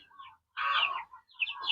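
Hens clucking at close range on a Philippine backyard farm, a few short bursts of fowl calls separated by brief pauses, with no talk.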